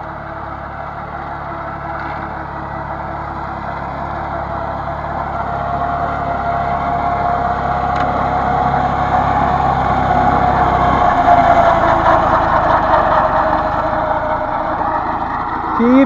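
A tractor pulling a drum mower through a vetch field gives a steady droning engine hum with a rising whine as load builds, continuous and close throughout with no voices.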